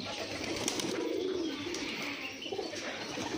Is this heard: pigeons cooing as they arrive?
yes